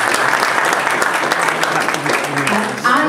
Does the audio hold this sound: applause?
yes